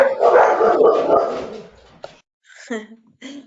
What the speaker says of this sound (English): I don't know what's going on with that dog.